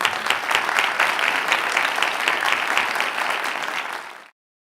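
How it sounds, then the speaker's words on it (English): An audience gives a sustained round of applause for Dr. Neal Lester after a Q&A session at Mesa Arts Center, steady dense clapping that stops abruptly near the end. "Lester a round of applause."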